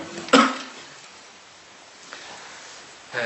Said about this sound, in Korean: 제가 아직도 기침이 다 안 끝난 것 같아요